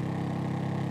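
A motorcycle engine in Grand Theft Auto 5 holds a steady, even mid-pitched drone for about a second, fairly quiet and with no talk over it.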